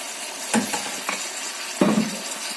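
Hot garlic chilli sauce sizzles in a pan, a steady close frying hiss broken by a few sharp scrapes and stirs of a utensil against the pan.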